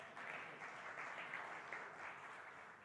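Audience applause at a countdown and launch event, a steady, faint wash of many hands clapping heard from a distance, continuing without pause.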